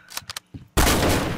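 Garry's Mod sandbox gunfire erupts as a sudden dense, loud burst of rapid shots right after a few short clicks and taps.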